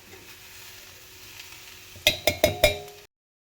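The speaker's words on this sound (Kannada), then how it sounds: "ಮೆಣಸಿನಕಾಳು ಅದನ್ನು ಕೂಡ ಹಾಕಿಬಿಟ್ಟು ಹುರ್ಕೊಳ್ಳಿ" Black peppercorns dry-roasting in a pan for a village-style bassaru, a quiet hiss broken by four quick, crisp rattling scrapes near the end, then silence.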